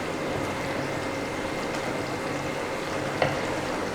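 Chopped tomato sizzling in a pan for a Kerala-style dish, a steady, close frying hiss with a soft bubbling undertone and one brief clink near the end, no voices.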